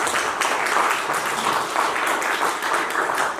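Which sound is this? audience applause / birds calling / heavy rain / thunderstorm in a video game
audience applause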